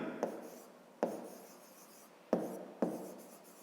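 A pen scratches on paper while a square's perimeter and area are written down: four sharp tap-starts, each trailing into a fading scrape, close and alone.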